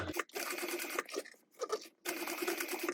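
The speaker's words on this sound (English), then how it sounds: "we're just going to go ahead and stitch down the curved pocket edge" A sewing machine stitches down the curved edge of a pocket on a fabric notepad cover, whirring in three close bursts separated by brief pauses, loud and near with no talk.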